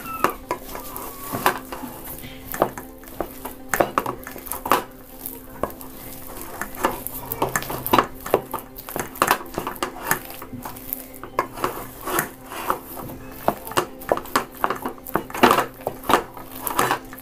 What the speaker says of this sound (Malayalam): ഇതുപോലെ നല്ല പേസ്റ്റായിട്ടങ്ങ് ഉടച്ചെടുക്കണം കഷ്ണങ്ങളൊന്നും തന്നെ പാടില്ല